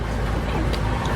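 Steady low rumble of a ride-on tractor engine heard from aboard during a bumpy ride, a continuous loud drone with no breaks.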